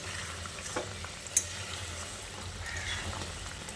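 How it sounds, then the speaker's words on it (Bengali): Stuffed potatoes being gently stirred in a pan for a vegetarian aloo dum, a soft steady sizzle with a few faint scrapes and clinks, close and low in level, with no voices. "পুর ভরা আলুগুলো দিয়ে এইভাবে হালকা হাতে নেড়েচেড়ে মিশিয়ে নিচ্ছি"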